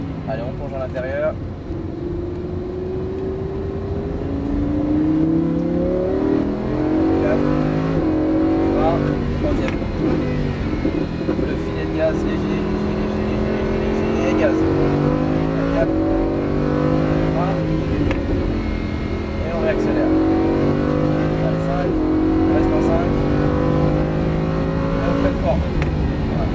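Sports car engine at Circuit de Bresse, loud and close, revving and accelerating repeatedly through gear changes over a long stretch, with a driver talking over the engine roar throughout.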